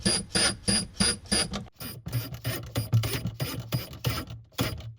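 Screws are driven with a power driver to mount a range hood inside a kei camper van, giving repeated short ratcheting whirs in quick bursts close by, with no talk.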